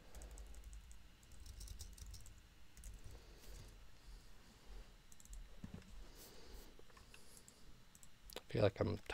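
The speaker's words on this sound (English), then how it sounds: "I feel like I'm typing something wrong" Keys clicking on a computer keyboard during a Go coding session, soft irregular taps at low level with a louder burst near the end; a voice speaks at points.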